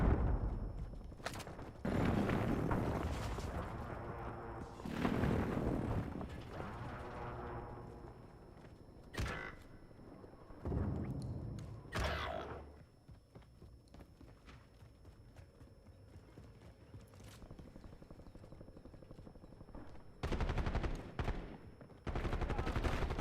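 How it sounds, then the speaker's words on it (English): Video game airstrike explosions and gunfire, loud bursts and heavy booms coming in several separate clusters with quieter stretches between them, heard alone. "Hostile airstrike incoming."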